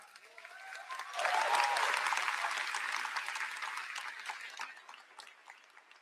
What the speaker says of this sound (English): Everybody give a round of applause to my mom and dad.